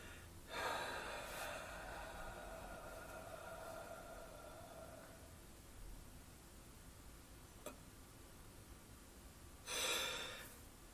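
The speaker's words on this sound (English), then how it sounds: "Push all the air out of your lungs and then simply let your lungs do the work inhaling the air." A slow, deep breath out pushes air from the lungs in a long, close, breathy rush that fades over several seconds. After a pause, a shorter, sharper inhale follows, quiet and alone in the room.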